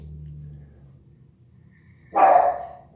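A single sharp dog bark rings out close by after a few seconds of low rumbling background noise.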